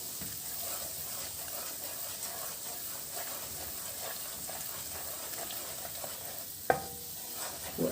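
Flour is stirred and toasted in a pot for helba, making a steady soft scraping and faint sizzle that runs throughout, with one sharper clack near the end.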